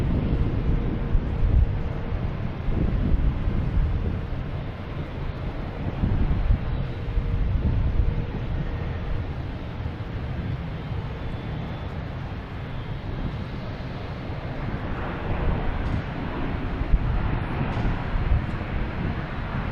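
An Airbus A321neo airliner arrives from Phoenix at Logan Airport at night, a steady broad engine roar sustained throughout, mixed with wind noise on the microphone.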